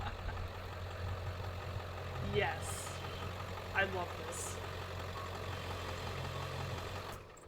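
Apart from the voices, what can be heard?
monster truck engine idling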